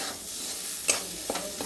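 Masala spices frying in oil for chana masala, a soft continuous sizzle with a few brief sharp clicks of stirring, close and without talk.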